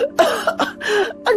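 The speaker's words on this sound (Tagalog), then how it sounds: "Pilit na pinipigilan ang malakas na ubo, pero hindi niya nakaya." A loud, harsh cough sound effect plays in a narrated horror story: several forceful, rasping coughs in quick succession, close and alone with no talking.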